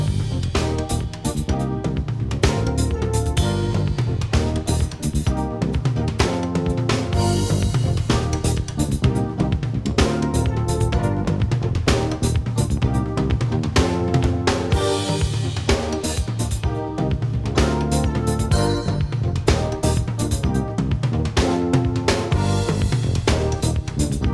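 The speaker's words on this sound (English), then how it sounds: "bring it over to the drums and orchestrate that pattern on the toms" Busy drum pattern rolling across toms, rim clicks and cymbal crashes, played steadily over a full backing track for about twenty-four seconds.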